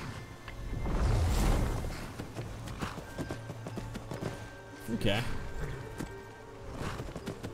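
Horse hooves clip-clop steadily at a moderate pace while riding in the video game Skyrim, with game music and brief voices over the hoofbeats.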